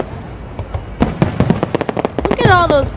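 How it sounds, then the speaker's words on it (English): Fireworks at a show burst in a rapid crackling string of loud bangs close by, ending in a whistling, rising shriek, with a voice heard among them. "look at all those pretty fireworks, though"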